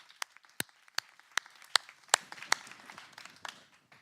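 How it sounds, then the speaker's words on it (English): Sparse applause for finalists at a corporate announcement event, a handful of scattered, separate claps spread irregularly over four seconds, fairly quiet and thin, as from a few people or a remote audience. "I think you deserve a round of applause."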